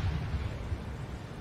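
Explosion sound effect of a battleship hit in the flank by the Bismarck's shells, a steady low rumbling roar at moderate level that keeps going without a clear onset, heard alone with no voices.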